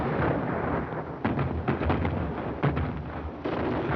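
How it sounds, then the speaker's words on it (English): Booming artillery fire from a 1941 war comedy film, a dense, continuous barrage of loud low rumbles with repeated sharper blasts and no speech. "The colonel's kind of early with his gunfire."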